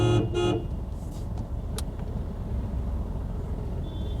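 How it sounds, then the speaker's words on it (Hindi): A short car horn blast sounds at the start amid heavy night traffic at a standstill, then gives way to a steady low rumble of idling engines and road noise. "हॉर्न देते हैं लेकिन कुछ नहीं हो रहा है"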